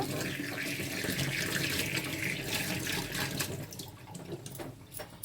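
Tap water runs steadily into a sink while coriander leaves are rinsed by hand, a continuous close splashing rush that eases slightly toward the end.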